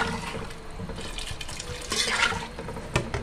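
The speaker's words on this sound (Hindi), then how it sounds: "पानी भी ऐड कर देते हैं।" Water poured into a cooking pot of spiced leftover food before pressure cooking: a steady, close splashing stream that runs for about three seconds.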